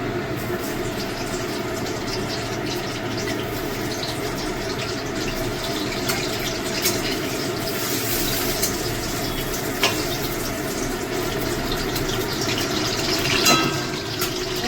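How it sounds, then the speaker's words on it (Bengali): Potatoes frying in mustard oil in a home kitchen, a steady dense sizzle holding at an even level throughout, with a few sharper crackles and spatters near the end. "আলুটা ভেজে নেব"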